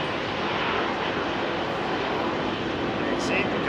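An airliner takes off from runway 27R at London Heathrow with a steady, broad engine roar. A voice is heard over the noise.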